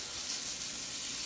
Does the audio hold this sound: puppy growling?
no